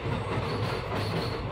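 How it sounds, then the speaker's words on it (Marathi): A train rolls into a station late at night, its steady rumble and clattering wheels filling the space at close range, loud and continuous with no voices over it. "फायनली आता आमची ट्रेन येत आहे"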